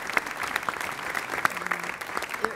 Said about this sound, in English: I think we should give a round of applause to everybody here